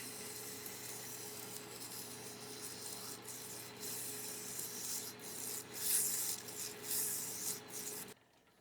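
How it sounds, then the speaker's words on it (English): Sandpaper rubs back and forth on a GM transmission part during an F100 build, a faint, steady scratchy abrasion with a few stronger strokes, then abruptly stops. "Go to sanding on it."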